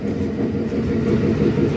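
The Ruposhi Bangla Express, bound for Benapole, pulls out of Dhaka railway station with a steady, loud low rumble of engine and rolling carriages that holds throughout, no voices.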